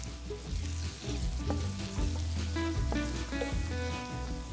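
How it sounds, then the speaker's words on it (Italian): Chopped onion sautés with sage, rosemary and thyme in a pan for a Tuscan bean dish, giving a steady, close sizzle that runs throughout with faint stirring clatter and no voices. "adesso facciamo appassire la cipolla per bene"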